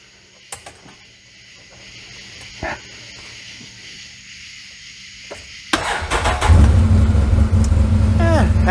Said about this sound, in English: let's give it a crank and see if it sounds any different